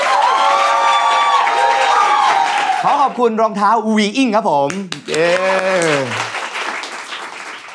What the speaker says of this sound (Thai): ปรบมือให้กับสิงห์ครับผม